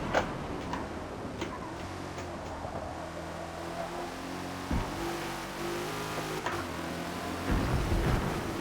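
Holden Torana A9X engine in Forza Motorsport at VIR North, held at a steady drone with a light throttle blip, a few sharp ticks over it and a rise in revs near the end, with no talk.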